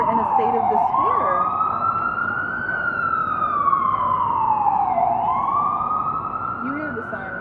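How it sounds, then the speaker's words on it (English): A loud emergency siren wails steadily up close, its pitch sweeping up and down in a slow, continuous cycle with road noise underneath. "You hear the siren."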